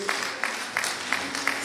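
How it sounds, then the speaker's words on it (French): An audience applauds at a diploma ceremony, giving steady continuous clapping with a few sharper claps recurring in a regular pulse, with no talk. "est-ce que nous pouvons applaudir fortement pour Maman Rosette?"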